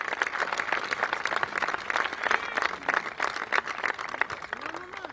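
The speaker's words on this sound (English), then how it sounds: "Applause all round." Spectators applaud at a World Cup event as a competitor finishes, a crowd's dense clapping filling the scene at moderate distance, steady with small swells.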